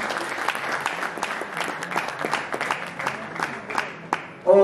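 A crowd claps steadily for a runner-up team at a Markhor Super League cricket shirt-launch ceremony, with dense, continuous applause and some voices mixed in, ending in a brief louder burst.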